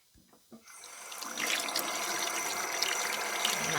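Oxtail and beef are washed under a running kitchen tap: a few soft knocks, then a steady, close rush of water that continues to the end.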